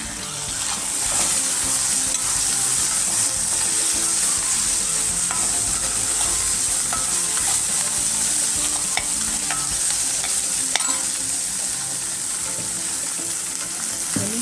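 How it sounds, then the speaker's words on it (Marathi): Green peas being sautéed with softened, lightly golden onion in a pan for pohe, giving a steady, close sizzle with scraping stir strokes throughout. "त्यामध्येच आपण आता हे वाटाणे परतून घेऊ"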